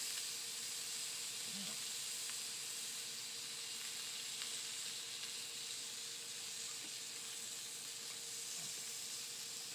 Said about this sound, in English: I'm gonna flip my sausages.